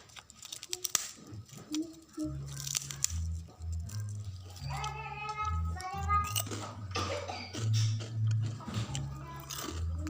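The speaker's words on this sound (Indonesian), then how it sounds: "Inilah kerupuk pisang yang masih mentah, gurih dan sangat renyah sekali." Someone bites and chews crisp fried crackers made from raw banana, giving repeated crunching over steady background music, with a voice talking partway through.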